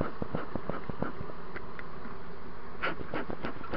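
Honeybees buzz steadily around an opened hive during frame handling, a continuous close insect drone with scattered clicks and knocks of wooden frames and boards.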